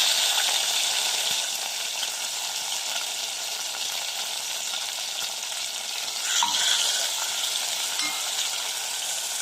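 Sliced onion and tomato hiss and sizzle in a hot pan while humba is being cooked, a steady close crackling fry with a brief stir clatter partway through.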